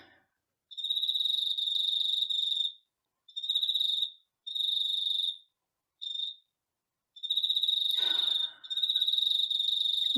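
Crickets chirping outside at night, high shrill trills in bursts of several seconds separated by short pauses, close and clear against otherwise quiet darkness, with a brief rustle partway through.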